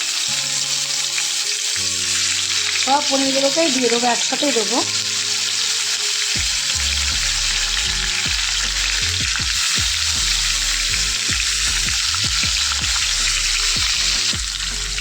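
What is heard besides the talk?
paneer pieces frying in hot oil in a wok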